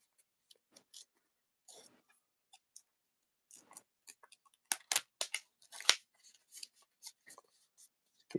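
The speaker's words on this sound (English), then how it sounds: "So we're going to keep shuffling." Dragon Ball Super Fusion World card deck shuffled by hand: scattered crisp riffles and snaps, sparse at first then denser in quick bursts, close and fairly quiet with no talking.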